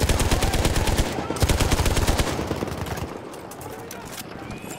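Rapid bursts of Madsen light machine gun fire in a Ballroom Blitz match of a World War I shooter game, loud and dense in the first half, then thinning into scattered distant shots and battle noise.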